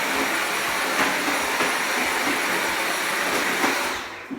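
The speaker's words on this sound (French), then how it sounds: "Quand on va le passer en puissance maximale, c'est un petit peu plus bruyant." A Dyson Animal Pro V7 cordless stick vacuum runs at maximum power, a loud, steady, close-up whooshing motor hiss that holds constant before tapering off at the end.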